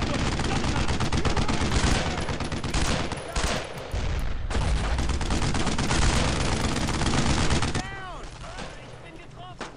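Dense World War II gunfire in Brothers in Arms: Road to Hill 30, rapid automatic bursts and rifle shots rattling almost continuously, loud and close, easing off near the end while shouted voices mix in.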